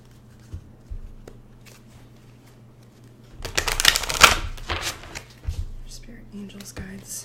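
Romance Angel oracle cards being shuffled and pulled close up, soft papery riffles and taps building to a busier burst of shuffling midway, then a few scattered handling sounds; quiet and intimate.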